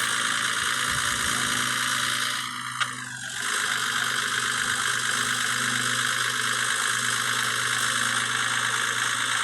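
A Volvo F Series truck engine drones steadily while driving in the Cargo Transport Simulator game, a constant mid-pitched hum with a brief dip and a whooshing sweep near the three-second mark.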